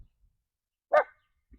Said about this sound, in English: pardon my dog there